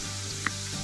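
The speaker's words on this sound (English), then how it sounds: "Put our yabbie tails on. You can hear that sizzle, that's what you want." Crawfish (yabbie) tails sizzle steadily in hot butter and garlic in a very hot pan, a close, continuous frying hiss with one brief pop partway through.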